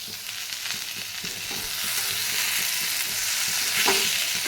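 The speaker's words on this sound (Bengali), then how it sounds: "তার আগে পটলটা একটু ভেজে নিই" Pointed gourd slices fry in a pan with a steady, bright sizzle while a utensil stirs them in repeated scraping strokes, close and continuous, with no talking.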